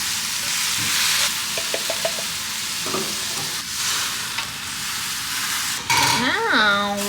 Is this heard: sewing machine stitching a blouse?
no